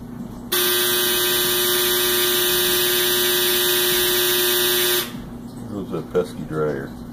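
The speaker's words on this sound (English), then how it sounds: "That pesky dryer." A clothes dryer on laundry day blares a loud, steady buzzer tone with strong harmonics for about four and a half seconds, then cuts off, leaving a low hum as a person begins talking.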